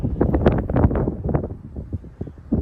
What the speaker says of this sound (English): That was a strong gust right there.